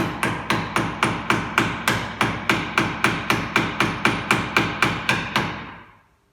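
Steady hammering on a chisel cutting a groove into a wooden spatula, roughly eighteen evenly spaced sharp taps close up, ending after about six seconds with no talk.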